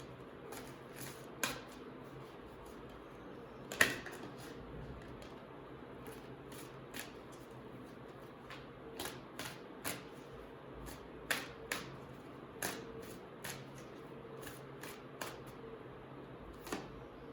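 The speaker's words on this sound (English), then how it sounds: "I'll pick up like a couple of oracle cards to see" Oracle cards are handled and shuffled in a quiet room, producing a series of sharp, irregular flicks and snaps spread through the stretch, close to the microphone, with no talking.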